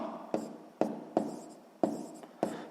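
Pen scratching on paper while writing out math terms, heard as five separate strokes, each starting with a sharp onset and then trailing off, close up and alone, with no talking.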